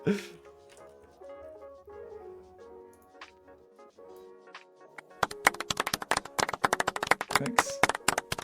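Golf clap applause sound effect: a scattered patter of light, quick claps that starts midway, after a stretch of quieter tonal sound and faint voices.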